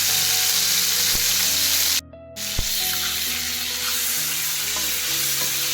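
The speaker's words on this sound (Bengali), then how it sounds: "এখানে মাছ ভাজি বসিয়ে দিলাম" Fish frying in a pan sizzles loudly and steadily, broken by a brief hard silence near the middle and a sharp knock as it resumes, with no talk.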